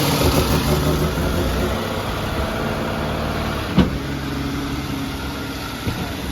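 An AMC Eagle engine runs at a steady idle after its stuck throttle linkage is freed, a constant close rumble with one sharp knock partway through.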